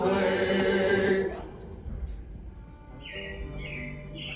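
Robin chirps in Disney's Carousel of Progress animatronic show at Walt Disney World, a few short bright repeated tweets arriving late, after music fades, over a quiet hum of the theater.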